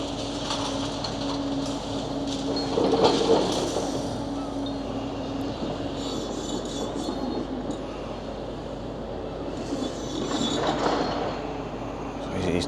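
A heavy demolition machine repositions and digs through rubble at the Blackpool Courts teardown, a continuous low engine rumble with creaking metal and scraping, heard from a moderate distance.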